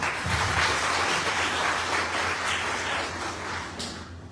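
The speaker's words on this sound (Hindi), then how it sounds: "एक ताली आप स्वयं के लिए बजाएंगे।" An audience at a gathering of a debt-relief campaign applauds itself. The clapping is a steady, dense wash that continues for about four seconds, then fades out.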